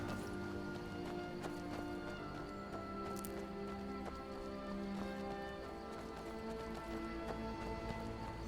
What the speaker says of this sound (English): Looks kind of treacherous for the horses, I'm not gonna lie.